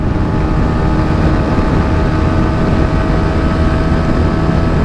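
A TVS Apache RTR 160 4V motorcycle cruising at speed in fifth gear makes a loud, constant engine drone mixed with heavy wind rush, unbroken from start to finish.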